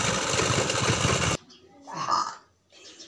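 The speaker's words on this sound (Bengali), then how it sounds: "এটাতে 5 থেকে 6টা সেলাই দেব।" A sewing machine stitches a patiala pant for a few seconds, a loud dense run that cuts off abruptly, followed by quieter talking.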